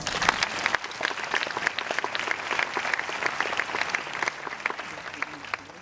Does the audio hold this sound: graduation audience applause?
yes